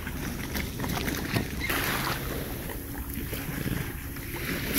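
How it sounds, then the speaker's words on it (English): Squally, breezy island morning on the coast of Jamaica: gusting wind buffets the microphone in a steady low rumble, with a brighter surge of air midway, over a faint wash of water and no talking. "Squally and breezy morning."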